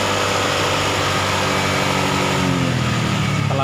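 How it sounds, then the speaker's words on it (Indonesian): A motorcycle engine with an idling stop system runs steadily close by, holding a continuous buzzing drone with a slight rise in pitch toward the end as the throttle is opened. "Setelah itu kita buka RPM gas dulu sampai lampu indikatornya hidup."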